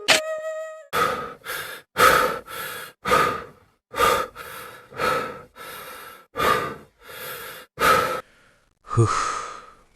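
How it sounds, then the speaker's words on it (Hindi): A cartoon character pants hard while digging soil, about a dozen loud, evenly spaced heavy breaths in a steady rhythm, ending with a longer exhale, with no other sound. "थोड़ी ही देर में वह हांफने लगता है।"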